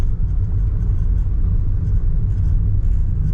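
A car drives along a quiet road in Macau, heard from inside as a steady close low rumble of engine and tires, with no talking.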